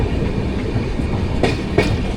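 The 19251 Somnath–Okha Express runs on rails near Dwarka, a steady rumbling roll heard from inside the coach with a couple of sharp rail-joint clacks near the end.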